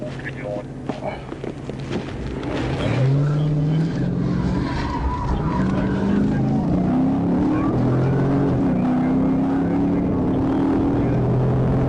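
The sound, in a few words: stolen police patrol car speeding through traffic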